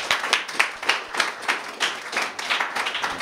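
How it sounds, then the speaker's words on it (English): A live audience gives a loud, close round of applause, dense clapping that swells in rhythmic pulses throughout, with no talking. "So if we could give a big round of applause for Michael Welch."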